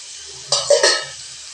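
Small shallots drop into hot oil in a pan, a sudden bright sizzle flaring up with a couple of stirring bursts, then settling back to a quiet hiss.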